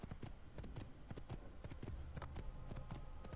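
Horse hooves clip-clop in Assassin's Creed 1, a quick, steady run of close, crisp hoofbeats alone with no voices.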